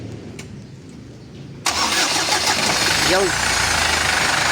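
A Foton Tornado with a 2.8 Cummins diesel engine fires up after a general overhaul, catching suddenly from quiet and settling into a steady, loud idle, while someone speaks briefly near the start.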